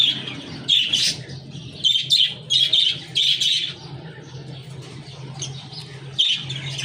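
Pet birds chirp and squawk in quick rhythmic bursts nearby, over a low steady hum, with short pauses between clusters of calls.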